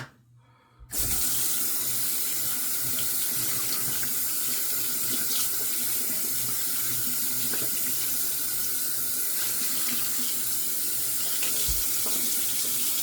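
Tap water runs into a sink to wet the face before shaving, starting abruptly after a brief quiet moment and continuing as a steady, close splashing stream.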